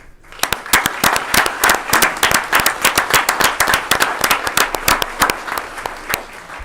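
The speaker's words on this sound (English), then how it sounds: "would you stand up just for a moment so we can applaud you" At a school board meeting, the audience applauds the standing honorees with loud, brisk clapping from a modest crowd, individual claps sharp and distinct through a steady run.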